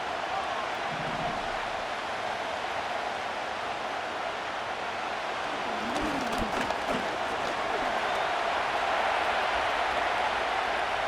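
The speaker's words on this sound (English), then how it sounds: "This crowd into it now as we get to 3rd down." Stadium crowd in the Madden NFL 25 football video game, a steady loud roar of many voices that swells slightly toward the end, with a brief commentator-like voice and thumps mixed in around the middle.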